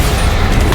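Bombarda explosion spell cast in Hogwarts Legacy: a loud, dense blast lasting under a second, filling the whole moment with a rumbling roar.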